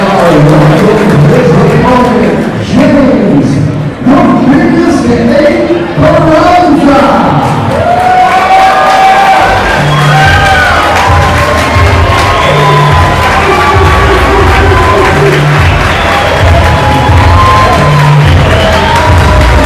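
Home crowd at a live MMA event roars with loud, continuous cheering, whoops and yells that swell and persist throughout, with shouted voices and music-like tones woven into the din.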